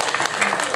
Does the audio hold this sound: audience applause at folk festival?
yes